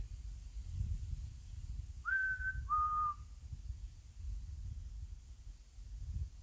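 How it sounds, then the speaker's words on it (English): Two short human whistled notes at Howden Minster, the first slightly higher than the second, over a quiet background with low wind rumble. "If I whistle, can you copy me?"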